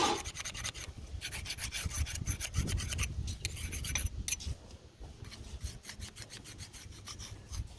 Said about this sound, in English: So you're filing on a slope on the inside and completely flat on the outside.